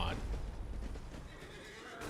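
A horse neighs sharply at the start in Elden Ring, followed by a dense rumble of movement and clopping during combat, fairly quiet overall.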